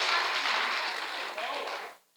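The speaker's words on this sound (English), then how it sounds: "If y'all could give a round of applause to the beautiful bride." Guests at a wedding reception give a warm round of applause, a full, sustained burst of clapping that cuts off abruptly at the end.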